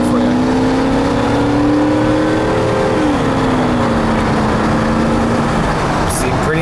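Engine of a GMC Yukon SLT with a 5.7-litre 350 V8, heard from inside on a test drive. It drones steadily as it accelerates, then the pitch drops with a smooth gear shift before it climbs again under constant road noise.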